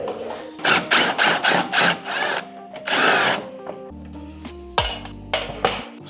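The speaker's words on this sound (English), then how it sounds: "take out these two bolts under here with a 10mm" A power tool fitted with a 10mm socket whirs in a series of short bursts, removing bolts from car trim, followed by metallic clinks as the parts and tools are handled.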